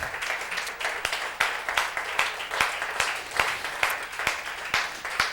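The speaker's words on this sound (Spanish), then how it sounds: "Nuestro aplauso es para Él." Church congregation applauding during a Good Friday service, a continuous crowd of clapping hands with a loosely pulsing rhythm, steady and moderately loud throughout.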